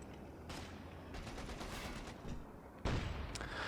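Bursts of .50 cal machine gun fire from a Company of Heroes 2 battle, rapid rattling volleys mixed with other gunfire and a sharp explosion near the end, with no talk over it.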